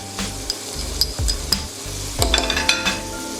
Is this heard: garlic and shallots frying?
yes